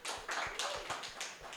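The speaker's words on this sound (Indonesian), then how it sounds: "Kasih tepuk tangan dulu buat kita semua." An audience at a church seminar in Indonesia breaks into applause, a quick burst of dense, fairly faint clapping in several rapid waves that lasts about a second and a half.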